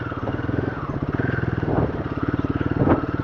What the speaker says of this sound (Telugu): ఓహో, బండి ఘోరం స్కిడ్ అవుతుంది అసలు